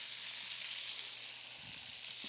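Pieces of Beijing chicken frying in a pan, a dense, even hiss of oil sizzling continuously at close range, with a few low knocks near the end.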